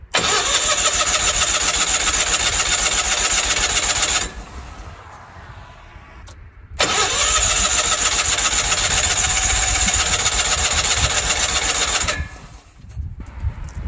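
A Ford F8000 truck that has sat unused for years, choke on, cranks with a loud steady whir for about four seconds, pauses, then cranks again for several seconds before stopping, close and alone.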